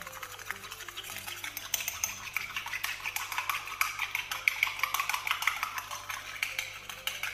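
Continuous scraping and clinking of a spoon stirring a thick homemade vitamin C serum mixture in a bowl, rhythmic and close, with no talking.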